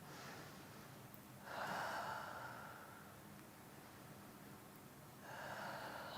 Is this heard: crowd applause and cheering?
no